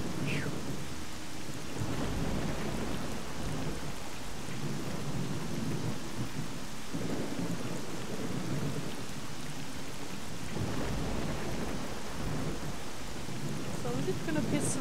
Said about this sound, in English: Rain all day now.